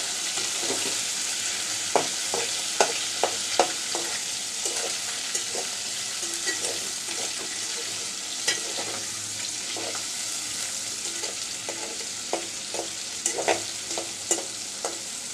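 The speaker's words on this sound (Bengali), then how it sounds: "একটু পেঁয়াজ আর রসুন কুচি দিয়ে দিচ্ছি" Chopped onion and garlic fry in oil alongside dried ribbonfish for a village-style curry, a constant close sizzle punctuated by repeated spatula scrapes and clicks as it is stirred.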